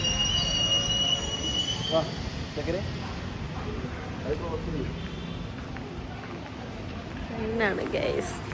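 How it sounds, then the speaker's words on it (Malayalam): A train rumbles past nearby, wheels grinding with occasional metallic squeals, while people talk over the noise. "ട്രെയിൻ"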